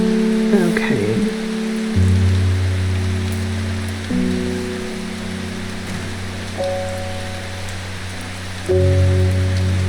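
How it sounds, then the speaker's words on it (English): Steady rain in the puzzle game Strange Horticulture, a continuous soft patter throughout, layered under low sustained ambient music tones that shift every couple of seconds, with no speech. "Does it ever stop raining in Undermere?"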